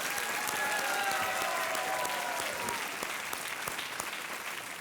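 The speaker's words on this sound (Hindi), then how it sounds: "एक बार तालियां बज जाएं रघुराज सिंह जी के लिए" A studio audience on the Hindi quiz show Kaun Banega Crorepati claps for a contestant, a fairly soft, even rush of applause with sweeping musical tones gliding over it in the first half.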